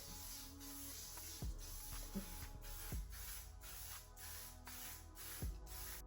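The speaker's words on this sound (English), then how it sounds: "And I'm just gonna spray my face." Short hissing bursts of a setting spray misting a face, repeated several times at a steady pace with faint clicks between, close and fairly quiet.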